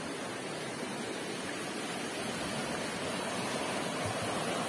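Water pouring down from a dam into the river below, a faint, even broadband rush heard from a distance, continuous with no voices.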